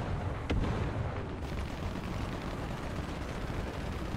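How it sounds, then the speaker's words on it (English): Artillery shells explode around a tank in a video game, a sharp blast near the start followed by rumbling booms and low, churning noise that rolls on through the rest. "I got artillery on me now."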